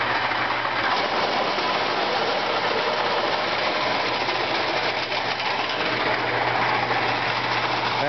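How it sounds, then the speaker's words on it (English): Grain augers running on a Clipper No. 27 seed cleaner while cleaning seed wheat: a loud, continuous mechanical rumble and rattling whir with a steady low hum, constant throughout and close by, with no talking. "And I'm turning on the transport auger."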